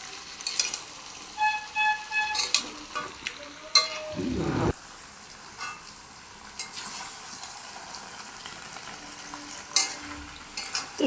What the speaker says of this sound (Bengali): আমি এখন মাংসটা কষাচ্ছি, কেমন লাগছে বলো কষানোটা